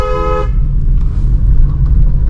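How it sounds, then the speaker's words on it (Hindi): A car horn sounds once, a loud steady toot lasting about half a second, followed by the engine running close by on a narrow road before a blind turn. "ब्लाइंड टर्न आ गया तो लॉन्ग हॉर्न प्रेस करेंगे"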